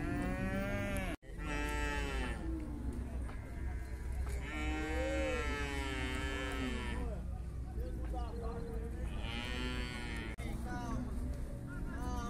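Cattle at a livestock fair in Cachoeirinha, Pernambuco, moo loudly and up close in long, drawn-out bellows, one after another, with a brief thump near the start and background noise from the fair.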